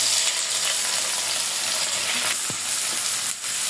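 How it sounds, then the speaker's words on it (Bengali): Sliced onions fry in hot oil in a wok for a river prawn curry, a loud continuous sizzle with occasional stirring scrapes, close up and without talk. "পেঁয়াজগুলো একটু লাল লাল করে ভাজি করে নেব।"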